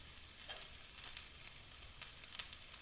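Garlic and vegetables sizzle in a frying pan with a steady, faint hiss and small crackles and pops, close up and without talking.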